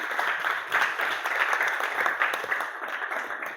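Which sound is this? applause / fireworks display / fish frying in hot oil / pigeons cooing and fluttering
applause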